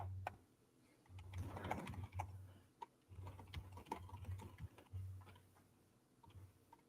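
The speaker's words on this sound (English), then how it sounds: "See, this is I'm just typing." Quiet computer keyboard typing with irregular bursts of key clicks and ticks, faint and close, alongside a low steady electrical hum.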